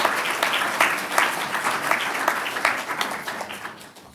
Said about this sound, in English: If everyone could please give them a round of applause.